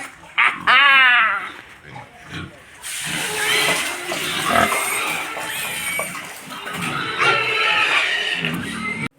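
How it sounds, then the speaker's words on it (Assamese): Pigs on a farm let out a loud squeal, then grunts and snorts rise amid continuous mixed background noise, and people talk nearby. "আমি খালেতো নহ'ব না, গাহৰিকো খুৱাব লাগিব"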